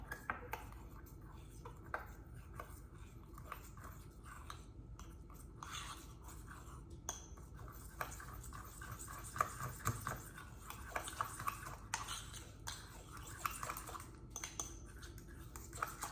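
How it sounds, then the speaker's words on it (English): Spoon scraping and clinking in a bowl while powdered peanut butter is stirred into pumpkin, with soft wet mixing and irregular taps, close and fairly quiet, no talking. "mix the powdered peanut butter in with the pumpkin. So just dump it in there, and then I just kind of mix it all up."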